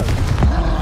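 A Confringo blasting spell from Hogwarts Legacy detonates close by in a short, loud, booming thud with a low rumble, set against a busy background of game combat sound.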